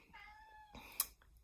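A house cat gives one faint, drawn-out meow at a distance, followed by a soft thump and a brief click in an otherwise quiet room.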